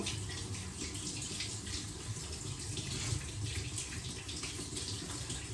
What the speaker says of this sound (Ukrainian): Я мию крупу всю, навіть таку мілку.